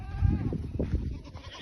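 Goats bleat in a short burst of two or three nearby calls, wavering and nasal, with faint farmyard background and no clear speech.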